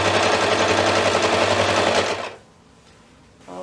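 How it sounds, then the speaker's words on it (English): A sewing machine stitches a quilt-as-you-go table runner at a quarter-inch seam, running in a loud, even mechanical hum for about two seconds before stopping, followed by a brief quiet stretch. "Sewing at 1/4 inch."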